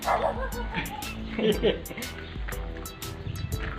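A dog barks in a quick series of sharp yaps with a few whimpers, close by, over background chatter and noise.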